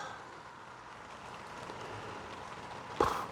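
Steady light rain patters on a 1965 Ford Mustang during a carburetor replacement, a soft broadband hiss throughout with a brief louder knock near the end.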